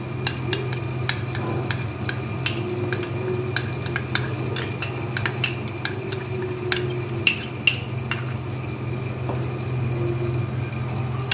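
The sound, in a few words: stirring milk mixture in a pan for mango kulfi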